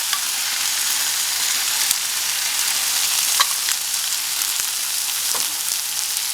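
Beef stroganoff with tomato paste sizzles steadily in a hot pan, a dense even fry with occasional soft scrapes and clicks of stirring, close and continuous with no talk.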